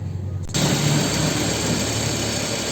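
A used Suzuki Swift's engine idles close up, a steady broadband hum with a low rumble that starts abruptly after a brief quieter moment, no voices.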